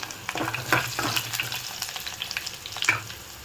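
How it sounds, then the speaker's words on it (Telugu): Curry leaves, three garlic cloves and two slit green chillies crackle and sizzle in hot oil, a steady close frying hiss with sharper spatters and a few stirring scrapes of a spoon against the pan. "కొంచెం కరివేపాకు మూడు వెల్లుల్లి రెబ్బలు అండ్ రెండు పచ్చిమిర్చి రెండు మిర్చి చీలికలు వేసుకున్నాము ఒక సెకండ్ అవి వేగాలి"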